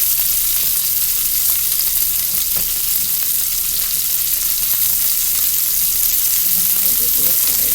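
Brussels sprouts crowd an overfilled pan and fry with a loud, dense, continuous sizzle and hiss, close and steady throughout, with faint stirring noise toward the end.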